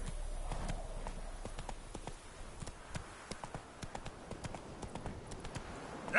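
Roach the horse gallops in The Witcher 3 video game, hooves thudding in a quick, steady clip-clop rhythm, fairly faint against a low background.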